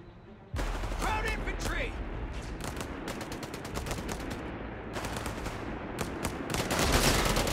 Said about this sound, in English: Damn Krauts have a machine gun!